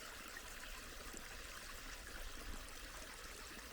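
Sewage runs from an open sewer pipe near Rabati Castle in a continuous, even gush of flowing water, faint and steady without a break.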